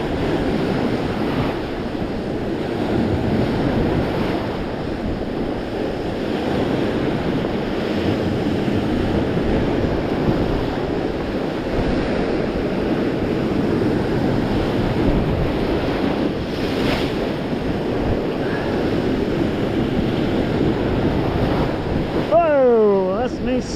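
Ocean waves crash on a shore during a windy sunrise fishing trip, a steady loud surging wash with wind buffeting the microphone throughout.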